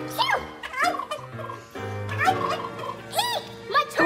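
A cartoon turkey gobbles in several quick warbling bursts, loud and close, with brief pauses between the rapid throaty calls.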